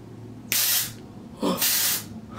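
Dry shampoo aerosol can sprayed in two bursts, each a loud, close hiss lasting about half a second, separated by a short pause.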